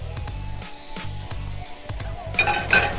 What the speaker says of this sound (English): All right, so you saute these things down